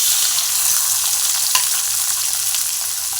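Tomato frying in leftover oil from roasted green chillies, garlic and peanuts for a peanut chilli chutney, a loud steady close sizzle with faint stirring scrapes.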